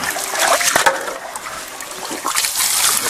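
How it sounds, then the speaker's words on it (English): Water sprays and splashes while rinsing dirt out of an automatic gold-panning machine, a close, continuous hissing gush with some wooden knocks. "spray some more water up in here"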